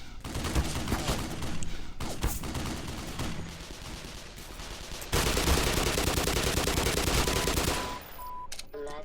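Sustained machine gun fire from a gun emplacement in Black Mesa, loud and rapid, with bursts that swell into a dense, continuous roar midway before dropping off near the end.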